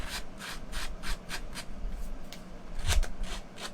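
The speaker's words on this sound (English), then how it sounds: "we're literally just going to distress the edges of this just a little bit" Paper card edges being distressed with a hand tool, a series of quick, rhythmic rasping rubs, close and fairly loud, repeating about twice a second with a brief pause in the middle.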